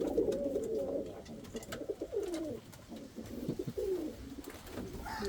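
Indian fantail pigeons coo in a steady run of soft, throaty calls at close range, overlapping one another with no talking.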